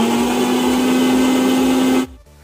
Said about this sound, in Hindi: अब हम इसे डालेंगे अपने ब्लेंडर में, अब जार में डालेंगे इसे एंड इसे पीस लेंगे अच्छे से